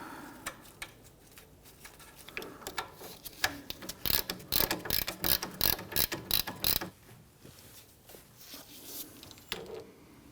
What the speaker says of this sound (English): Let's go ahead and get that nut started here.